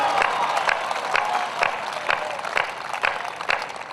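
Audience at a Hindi kavi sammelan poetry recital clapping steadily, a sustained wash of applause with regular louder beats running through it, spread across a sizable crowd.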